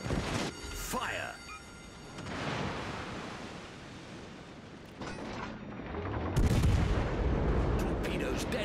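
Naval guns fire in World of Warships Legends as heavy booming blasts that roll into a long rumble, with a second burst later, under game voice callouts and ambient sea noise.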